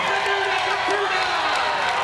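A crowd cheers and calls out for a woman marathon winner at the finish line of a hot, humid road race, steady broadband roar throughout with a voice talking over it.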